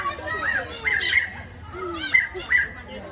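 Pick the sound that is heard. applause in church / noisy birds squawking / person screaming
noisy birds squawking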